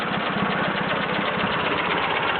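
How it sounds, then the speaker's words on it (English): An Ariens GT17 garden tractor with a worn-out Kohler engine runs steadily and loudly nearby, a constant rough, slightly knocking drone with no pauses and no talking. "Worn out Kohler GT17 motor."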